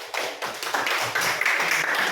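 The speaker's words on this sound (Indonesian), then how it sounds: "Tepuk tangan." A small classroom group claps after a student presentation, with scattered uneven hand claps building into brief, modest applause that stays moderately loud and close.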